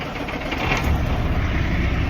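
A Kenworth truck's diesel engine cranks and catches without the clutch pressed, then settles into a loud, steady rumbling idle close by.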